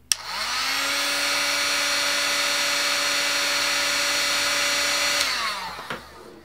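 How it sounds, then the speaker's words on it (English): A heat gun blows hot air at a temperature sensor, rising into a steady whirring tone after a click, holding evenly for about five seconds, then spinning down. "now let me apply some heat with my heat gun"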